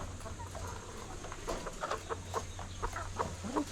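White laying hens cluck in a series of short, fairly faint calls over a steady low hum, with no voices.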